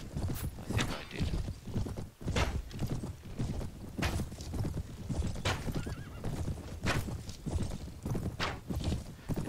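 In the video game Mount & Blade, hooves clip-clop in a steady rhythm while horses neigh and whinny repeatedly, with thuds and scuffles in a busy, close scene.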